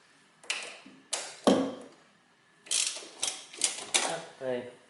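A ratchet wrench turns the last bolt on a Toyota throttle body, with bursts of quick clicking in separate runs, close and moderately loud, some overlapped by a voice speaking.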